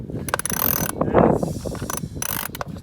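Ratchet wrench turning a spark plug socket on a 2018–2021 Honda Accord engine, a run of quick mechanical clicks and ratcheting bursts, close and fairly loud, with no talking.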